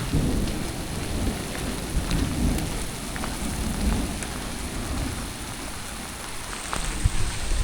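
Heavy rain pours steadily and close, a dense hiss broken by low rumbles of thunder, with no voices heard throughout.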